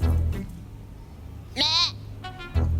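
A single loud, wavering goat bleat with a quivering tremolo rises clearly for about half a second, followed by a shorter, fainter bleat, over low background rumble.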